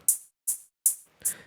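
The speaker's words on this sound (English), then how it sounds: "And this hat sample." Four crisp hi-hat sample hits, evenly spaced about 0.4 seconds apart, each bright and short with a quick decay; the last hit is slightly softer with a fuller body, heard alone without talk.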